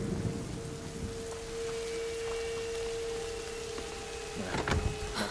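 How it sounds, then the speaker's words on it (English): Steady rain in the video game A Plague Tale: Innocence, with a continuous hiss of falling water, a sustained tonal hum underneath, and a burst of low rumbling thunder near the end. No voices are heard. "Very immediate rain."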